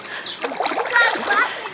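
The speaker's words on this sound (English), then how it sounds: "just jump in and splash" A child splashes into backyard pool water, a quick burst of splatter heard close and loud with a voice talking through it.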